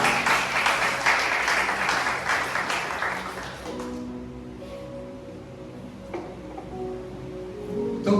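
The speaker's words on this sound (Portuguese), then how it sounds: "Dê um aplauso." Church congregation applauding during a Sunday service, a dense burst of clapping for about four seconds that then fades into a quieter room with lingering noise.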